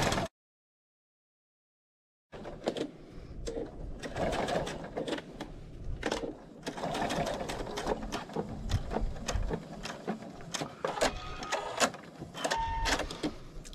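A sewing machine top stitches a baby quilt made from a panel, whirring in steady bursts with short pauses after an opening moment of silence.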